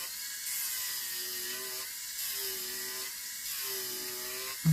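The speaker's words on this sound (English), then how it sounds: "then we're going to go in with a sanding band again to reshape" An electric nail file fitted with a sanding band grinds down the length of soft plastic press-on nails, a steady high whine that rises and falls in repeated passes, close and alone.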